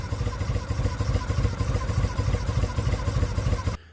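A motorcycle that hasn't run in a while idles roughly, with some play in its throttle cable. The close, steady low rumble has a lumpy pulse throughout, then cuts off abruptly just before the end.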